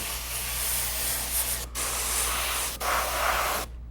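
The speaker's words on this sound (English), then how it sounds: "A couple little layers with the airbrush." An airbrush spraying paint over a stencil gives a steady, close, airy hiss in two brief pauses before it cuts off at the end, with no one speaking.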